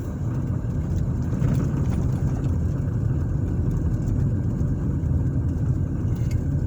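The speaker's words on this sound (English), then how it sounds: "right now I'm driving around" Steady car engine and road rumble from inside a vehicle cruising through a residential neighborhood on Horizon Lane in northwest Indianapolis, a continuous low drone with no speech.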